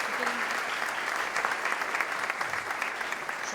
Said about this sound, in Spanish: Un aplauso al panel.